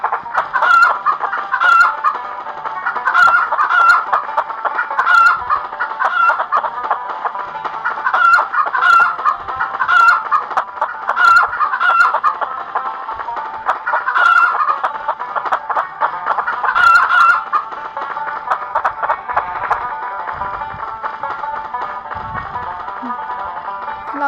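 Chickens cluck and squawk steadily during a chicken-catching game, with repeated close bursts of clucking in an uneven rhythm over a busy outdoor background and no talk.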